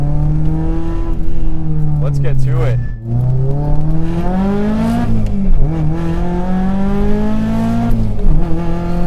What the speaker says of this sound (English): From the rattling of the chassis mounted CAE shifter to the exhaust itself that absolutely screams.